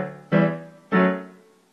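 Two separate piano notes of a song ring out one after the other, played close and moderately soft, each decaying before the next, with no talking.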